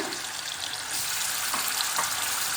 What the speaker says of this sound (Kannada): ನಾವು ಎಲ್ಲ ಪೀಸಸ್ಗಳನ್ನು ಈ ರೀತಿ ಎಣ್ಣೆ ಹಾಕ್ಕೊಳ್ಳೋಣ